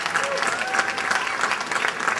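Audience applause fills a school band concert hall, a steady dense patter of many hands clapping throughout at moderate loudness, with a voice faintly present underneath.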